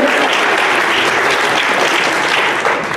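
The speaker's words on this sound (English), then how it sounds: "Let's get a big round of applause for her." An indoor audience at an evening talk event gives a big round of applause: loud, dense, continuous clapping from many people that holds steady throughout.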